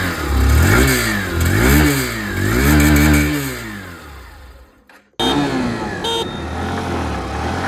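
125cc motorcycle engine, either a 2025 Honda SP125 or a Hero Super Splendor 125 Xtec, loud and close, revving through rising and falling throttle sweeps, then dropping off briefly before holding a steady drone.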